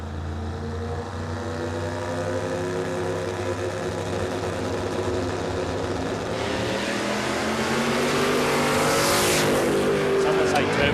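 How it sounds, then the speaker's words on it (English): A turbocharged Holden Monaro CV8 roars down a drag strip, its loud engine note climbing steadily in pitch over several seconds, with a voice talking over it. "Turbocharged Monaro. Look at this thing go."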